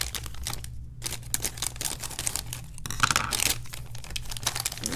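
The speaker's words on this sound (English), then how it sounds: "go ahead and just take each one out of the wrapper just like this" Plastic wrapper being torn and crinkled open around a printer ink cartridge, close and fairly quiet, with bursts of rustling and ripping over a steady low background hum.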